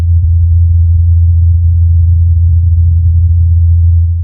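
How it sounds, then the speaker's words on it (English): Low, steady droning hum of a small helicopter flying in the thin Martian atmosphere, captured by the Perseverance rover: a constant deep tonal buzz with a slightly rough texture, unbroken and even for the whole stretch with no voices. "This is the sound of a helicopter flying on Mars."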